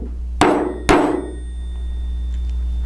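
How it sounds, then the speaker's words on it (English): A 2-pound hammer strikes a metal letter stamp into stainless steel twice, about half a second apart. Each close, sharp whack leaves a short ringing decay before quiet room tone returns. "the 2-pound hammer works great because it gives you more oomph, and in this case maybe a couple of whacks"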